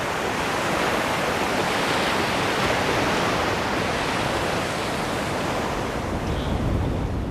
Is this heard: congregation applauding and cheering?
no